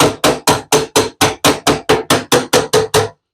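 Thirteen sharp metallic body-hammer blows strike a sheet metal duct at a steady, fast rhythm, each ringing briefly before the next, loud and close with no talking.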